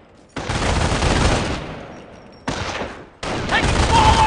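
Small arms gunfire crackles in the Company of Heroes video game during a battle at Carentan, loud dense bursts of rifle and automatic fire broken by short pauses, close and harsh.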